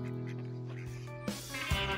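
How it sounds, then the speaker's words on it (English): Ducks give a couple of short, rough quacks near the end, rising briefly above a steady tonal musical backdrop. "Hang on, what about the ducks?"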